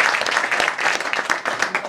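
An audience at a Dutch entertainment show claps in a lively burst of close, dense applause, individual hand claps audible within the steady clatter.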